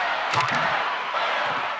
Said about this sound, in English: The crowd loses it.